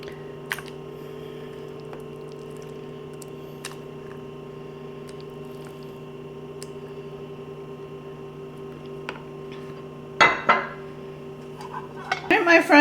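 Near the end a ladle clatters and scrapes as homemade chili is dished into a bowl, a few short clinks over a steady kitchen hum after a long quiet stretch.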